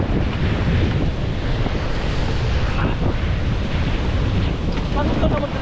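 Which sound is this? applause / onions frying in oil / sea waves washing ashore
sea waves washing ashore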